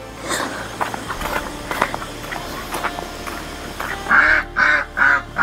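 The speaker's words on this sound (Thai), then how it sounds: "เป็ดตัวนึงก็ออกเนาะ" A duck in a rural farmyard gives several loud, close quacks in quick succession near the end, after scattered rustling and footstep-like sounds.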